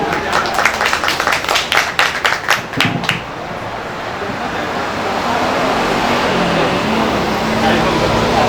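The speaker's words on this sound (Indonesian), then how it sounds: "Terima kasih, tepuk tangan." A crowd at a shop opening ceremony in Singosari, Malang, claps loudly for about three seconds, then the clapping stops and steady traffic and engine rumble carries on alone.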